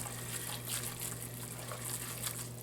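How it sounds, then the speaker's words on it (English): Cold milk pours steadily into a hot roux for baked macaroni and cheese, a continuous close liquid gush and splash with no break over a low steady hum. "But you pour the milk in slowly so that it's tempered as you go"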